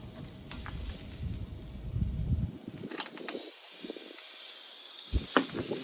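Tri-tip steak sizzling on a hot grill, a steady close hiss that softens partway through, with a few sharp crackles and pops breaking in near the end.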